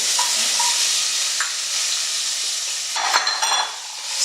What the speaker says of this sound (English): getting a little bit of a crisp on that bacon